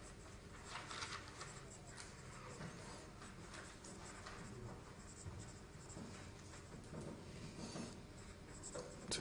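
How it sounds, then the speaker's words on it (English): A pen or chalk scratches continuously across a surface during a university maths revision seminar on improper integrals, faint and somewhat distant amid room noise with a voice speaking at times. "But just I might write that warning down."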